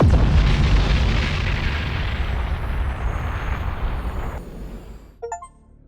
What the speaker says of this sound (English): The fearsome battleship Torment has been blown into scrap.